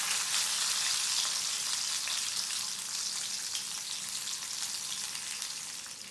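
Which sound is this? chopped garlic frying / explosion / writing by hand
chopped garlic frying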